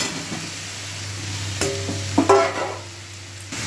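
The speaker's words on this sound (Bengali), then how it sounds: "এবার আলুটা দেওয়ার পর এবার ভালো করে দু তিন মিনিট কষবো এইভাবে" Fried potato pieces go into hot oil with an egg and paneer dish and are stirred, giving a steady low sizzle with scraping stir strokes around the middle and a low steady hum beneath.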